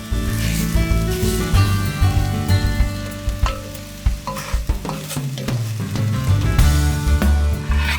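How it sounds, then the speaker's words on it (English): Ground meat browns with onion in a pan for lasagna soup, loud and close, with dense crackling sizzle and repeated scraping and knocking as the meat is broken up and stirred. "I can break up the meat as it cooks, incorporating it into the onion."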